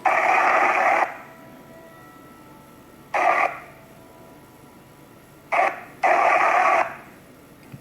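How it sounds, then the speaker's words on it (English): Bursts of hissing white noise from an ITC spirit-communication app's sound bank, built from DR60 recordings, switch on and off abruptly in irregular blocks of about a second, separated by near-silent gaps. "DR60 white noise."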